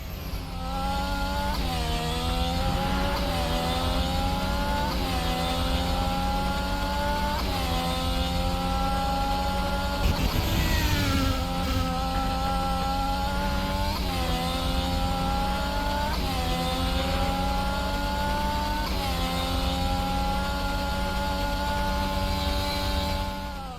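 Race car engines in a sim racing game scream continuously and loudly, rising and falling in pitch in repeated upshifting waves as the cars accelerate, with no talking over them.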